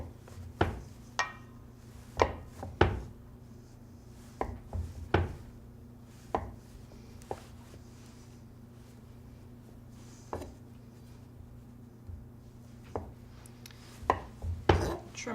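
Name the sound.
knife cutting chilled firm chocolate ganache into portions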